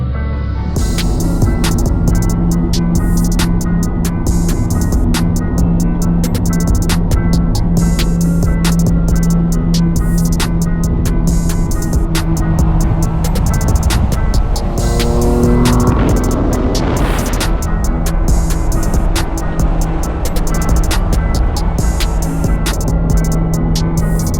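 A Toyota MK4 Supra, otherwise stock but with an aftermarket exhaust and intake, driving with a loud, steady engine drone close by that surges and sweeps in pitch midway through as it accelerates.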